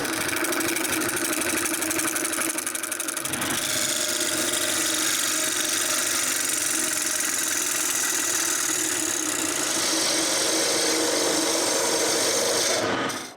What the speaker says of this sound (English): After checking this on my lathe and pushing the tailstock on the end, I turn a nice cylinder.